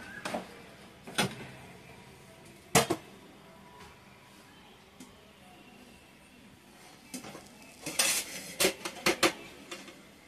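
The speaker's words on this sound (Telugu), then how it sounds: "స్టవ్ ఆపేసేసుకొని మనం గిన్నెలో పెట్టుకుందాం అండి" Pots and utensils handled while cooked food is moved into a bowl, with several sharp metallic clanks and scrapes spaced apart, a quieter stretch in the middle, then a cluster of rapid clinks near the end; no talking.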